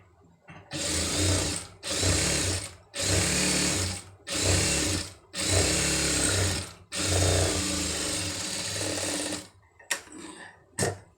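A sewing machine stitches a folded designer sleeve in six loud bursts of rapid needle clatter with short pauses between, ending with a few brief taps and a final short run.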